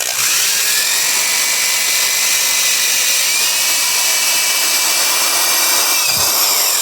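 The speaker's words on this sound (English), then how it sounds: "I'm using wire brush on a drill to get in around the crevices here" A wire brush spun by a drill scrubs rust from an old edger held in a clamp, giving a loud, continuous high whir and scraping that holds steady and dips briefly near the end.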